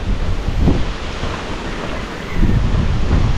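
Strong wind roars and gusts across the microphone, rumbling low and uneven, with surges of buffeting and no voices.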